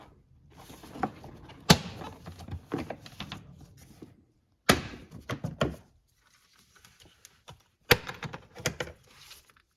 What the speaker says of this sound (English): Unclip the airbox lid.